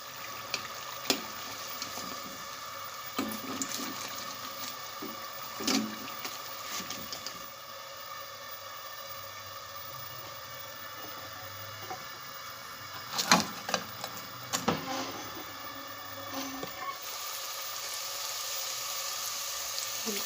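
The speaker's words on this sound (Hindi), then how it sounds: "बिल्कुल ऐसे ही इन्हें भी हम फ्राई कर लेंगे जैसे हमने समोसों को फ्राई किया।" Aloo rolls frying in hot oil in a kitchen, a quiet continuous sizzle with occasional louder bubbling bursts and clinks, close and steady throughout, no voices.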